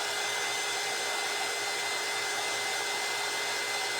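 Steady, loud whir of a hair dryer blowing on a freshly decoupaged, painted snow globe craft, a continuous broadband rush with no pauses and no talking.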